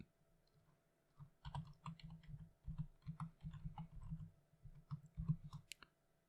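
Steady typing on a computer keyboard while entering text into Notepad, close and soft, with irregular runs of clicks and brief gaps between words.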